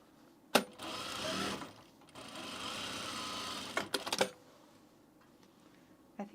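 Sewing machine stitching down the side seam of men's pants in two sustained runs of rapid mechanical whirring, with short pauses and a few sharp clicks between them.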